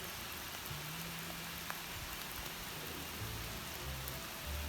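Steady rain patters across a shaded no-mow lawn and garden beside a driveway, a dense even hiss with a few low hums underneath.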